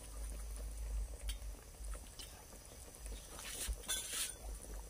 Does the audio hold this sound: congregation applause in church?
no